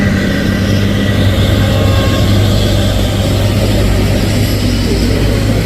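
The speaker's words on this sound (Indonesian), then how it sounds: "Truk menanjak." A heavy truck's engine strains uphill on a road with vegetable trucks and trailers, a steady loud low drone with constant rumble and no pauses throughout.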